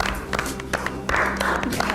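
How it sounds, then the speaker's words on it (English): A television magic show audience breaks into applause, a dense run of clapping with sharp individual claps standing out, and a voice speaking briefly over it. "That's a round of applause for our boy."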